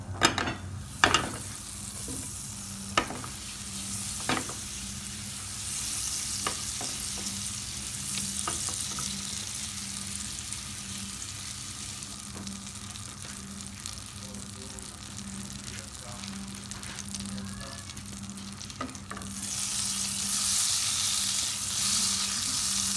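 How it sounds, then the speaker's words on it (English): Chopped onions are stirred in melted butter, making a continuous close sizzle with scraping and clattering stir strokes early on. The frying grows a little louder toward the end, and no one speaks. "We put the butter in, and we're gonna stir some chopped onions in there."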